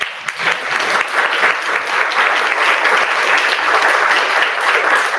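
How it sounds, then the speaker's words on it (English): A forum audience in New Taipei City gives steady, loud applause for two presenters, a packed room of clapping that holds at an even level from start to finish. "Please join me in giving a big applause to both presenters."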